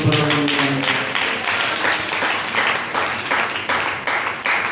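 Hands clapping during a church sermon, a continuous rhythmic beat of many claps in quick succession, fairly loud and steady throughout with no speech over it.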